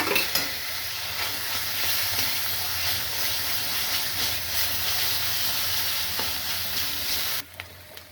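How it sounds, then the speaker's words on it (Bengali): Nut paste goes into a frying duck egg korma, bringing a loud steady sizzle and hiss with scraping stirring sounds that persist for several seconds before suddenly dropping away near the end. "এবার আমি বাদাম বাটাটা দিয়ে দিই।"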